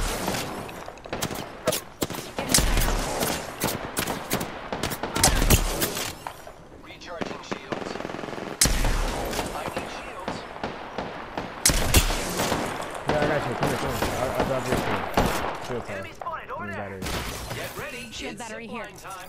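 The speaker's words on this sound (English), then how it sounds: "Taking fire." Dense gunfire from the Apex Legends video game crackles in rapid bursts and sharp bangs over nearly twenty seconds, loud and busy, with voices speaking over the shooting.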